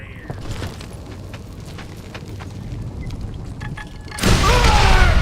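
A dynamite blast goes off in the Western shooter Call of Juarez: Gunslinger, a loud broadband boom bursting in after several seconds of quieter rumbling game ambience with faint voices.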